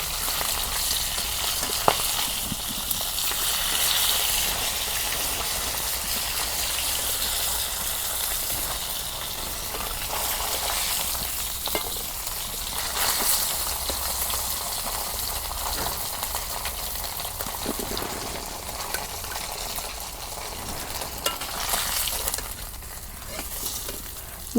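Rupchanda fish fries in oil in a pan in a village kitchen, a steady, close hiss and crackle of sizzling with occasional stirring scrapes, continuing without talk.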